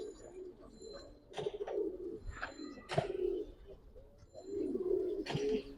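Giribaz coloring and Boil Pangkhi pigeons coo softly and repeatedly, the rolling calls overlapping at a low volume nearby.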